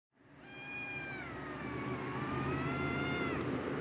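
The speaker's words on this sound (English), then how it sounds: "you're going to hear my cat Monday whining here" A pet cat named Monday lets out one long, drawn-out whining meow that rises and wavers for several seconds, close and clear against a faint background hum.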